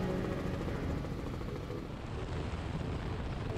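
Robinson R44 helicopter in flight over a powerboat poker run, a steady loud rotor and engine roar that stays constant and close throughout, with no talk.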